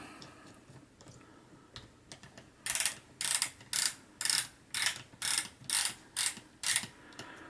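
A Greist rotary buttonholer attachment runs on a sewing machine, starting with soft irregular ticks and then settling into a loud, even series of about eight rhythmic mechanical clacking bursts, close up with no talk.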